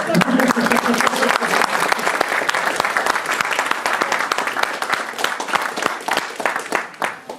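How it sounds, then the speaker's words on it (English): A crowd claps through a charity auction at the Retcon 2023 convention: sustained, dense applause with sharp individual claps standing out, steady for several seconds and tapering slightly at the end, with a voice briefly heard at the start. "Come on, where's the applause?"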